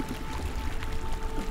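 Raft rowing through water in the horror game Outlast 2, a steady wash of splashing and sloshing water with a low rumble underneath, continuous and fairly loud, with no one speaking.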